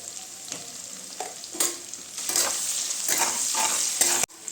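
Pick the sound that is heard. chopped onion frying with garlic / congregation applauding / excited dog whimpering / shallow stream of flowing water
chopped onion frying with garlic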